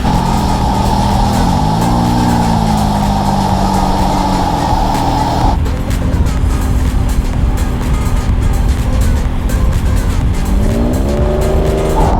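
A loud V8 engine in a custom widebody Toyota Vellfire minivan roars steadily, with a rising rev early on and another climbing toward the end, close and continuous.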